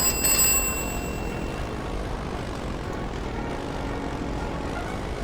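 A U-boat's engine in the Silent Hunter 3 submarine game hums as a steady, even drone, loud and continuous, with a brief brighter tone at the start and no talking.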